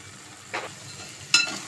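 A spoon stirs turmeric, chili powder and salt in a hot frying pan, two brief scraping strokes over a quiet low sizzle, no voices.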